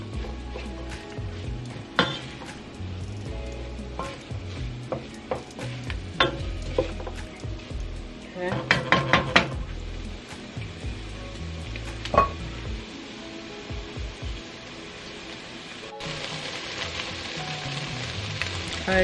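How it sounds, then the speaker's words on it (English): Vegetables for chili sauté in a pot, giving a steady close sizzle broken by repeated scraping and clattering strokes of a stirring utensil against the pan. "So now I'm just going to give this a nice stir"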